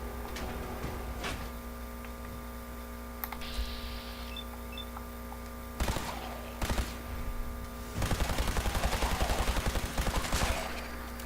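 Rapid gunfire in Fallout 4, with a few separate shots followed by a long fast burst of automatic fire near the end, set against a steady humming background.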